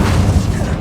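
A single heavy, rumbling burst of an Incendio fire spell cast in Hogwarts Legacy, loud and close, a short whooshing boom under a second.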